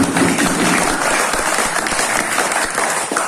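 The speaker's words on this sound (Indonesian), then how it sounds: "Tepuk tangan Bapak Ahmad" A ceremony audience gives loud, dense applause for Bapak Ahmad, clapping close and sustained for the full stretch with a brief voice near the start.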